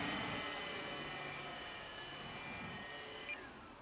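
A Durafly T-28 Trojan electric RC model plane flies under power overhead, its motor giving a steady whining drone with a faint shifting pitch, moderately distant and without talk.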